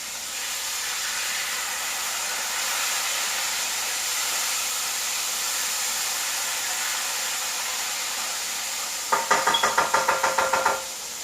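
Fried fish sizzles loudly and steadily in a pan, a dense hiss, ending with a quick run of rhythmic scraping or tapping as it is flipped and stirred alongside pork and beans.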